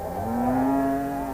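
A single cow gives one long, steady moo, close and clear with nothing else around it.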